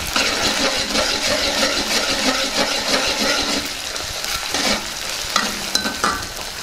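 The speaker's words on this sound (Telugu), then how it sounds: "ఇప్పుడు కొద్దిగా అల్లం వెల్లుల్లి పేస్ట్ వేసుకుందాం. దీన్ని బాగా కలుపుకుందాం." Ginger garlic paste is stirred in a frying pan for a tomato phool makhani curry: a loud, dense sizzle runs throughout, with scraping strokes and a few sharp clinks of the utensil against the pan.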